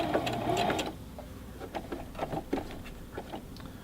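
Singer Classic Heavy Duty sewing machine stitching a seam along a fabric edge, a close, loud burst of rapid stitching that then slows into short, uneven runs of needle clatter.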